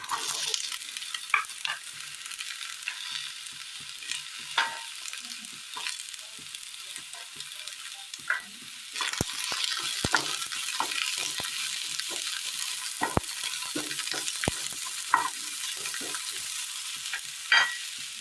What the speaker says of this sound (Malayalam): ഇതിലേക്ക് സബോള ഇട്ട് കൊടുക്കാം